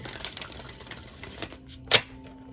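Rapid papery riffling of tarot cards being shuffled for about a second and a half, close and fairly quiet, followed by a single sharp tap.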